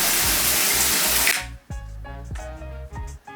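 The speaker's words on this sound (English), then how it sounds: "I'm about to jump in the shower" A running shower gives a loud, steady rush of water that cuts off abruptly after about a second and a half, followed by quieter knocking and rattling sounds.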